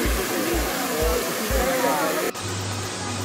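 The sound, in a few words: Sajikot waterfall flowing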